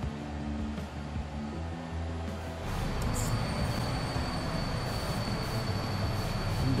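A train runs in the game Transport Fever 2, with a steady rolling rumble and wheel hiss that grows louder partway through, alongside faint game tones, with no talking.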